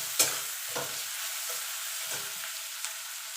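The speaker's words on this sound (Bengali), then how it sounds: "এবার পেঁয়াজটাকে লাল লাল করে ভেজে নেব" Onions fry in oil toward browning, giving a soft continuous sizzle under several scrapes and stirs of a spoon in the pan, close and fairly quiet, with no talking.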